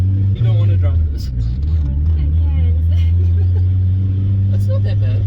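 A turbocharged Mazda Miata idles and drives with a steady low engine drone close inside the cabin, while people talk over it.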